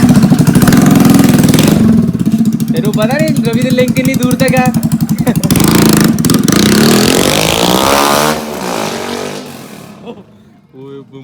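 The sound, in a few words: motorcycle revving with changed silencer, sound test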